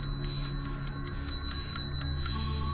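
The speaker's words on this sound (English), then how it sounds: "Bell sounds a little different today" A small bell, Hector's call bell in Better Call Saul, taps out a quick run of repeated metallic dings over a steady low hum, each strike short and fairly close.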